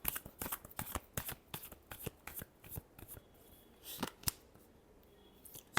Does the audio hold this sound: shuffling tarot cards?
yes